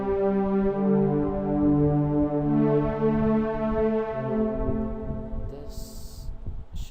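Violin ensemble patch playing sustained harmonic chords in FL Studio for an uplifting trance track, loud and smooth, with a brief bright tone near the end.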